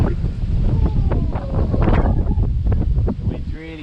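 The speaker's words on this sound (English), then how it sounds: "The wind's really starting to pick up now." Strong Hurricane Ian gusts roar steadily across an outdoor resort setting with palm trees, buffeting the microphone in a loud, continuous rush with a few faint higher tones over it.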